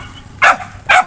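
A dog gives two sharp, loud barks close by, spaced about half a second apart, over a quiet background.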